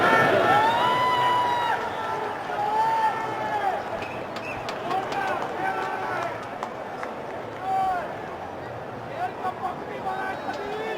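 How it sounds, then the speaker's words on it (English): Crowd at a cricket stadium during a Bangladesh versus India match roars and cheers continuously, a broad wash of voices with whistles rising and falling under a commentator's talk. "Something at last for Tigers fans to cheer about."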